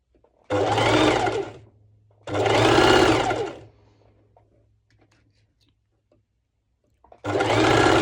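Sewing machine stitching a fabric crop top, heard as two loud whirring bursts of about a second each, a quiet pause, then a third burst starting, with no talk.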